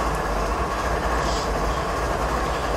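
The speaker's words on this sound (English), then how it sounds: "let's continue after this small freight train comes through" Small BNSF freight train in Train Simulator 2016 on the Stevens Pass route rolling past, a steady broadband rumble of wheels and cars holding evenly at close range for the whole stretch, with no talking.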